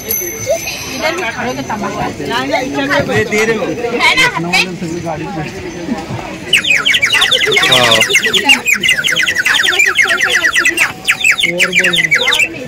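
Bright, warbling whistle trills, like a water-filled clay bird whistle, burst out loudly and repeatedly in the second half after a stretch of voices and chatter.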